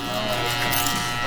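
Andis electric hair clippers fitted with a 0 clip buzz steadily and close up while blending a fade haircut in a barbershop, a continuous even drone.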